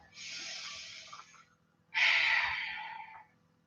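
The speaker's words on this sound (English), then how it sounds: "And one more full breath." Two close, airy breaths in a slow yoga flow, a softer inhale followed by a fuller, louder exhale, heard alone in a quiet room.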